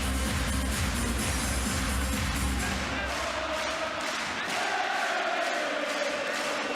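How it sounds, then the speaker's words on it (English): Crowd at the 2019 World Handball Championship final between Denmark and Norway roars steadily in a large arena, a dense, continuous wall of cheering that stays loud throughout. "The crowd ecstatic."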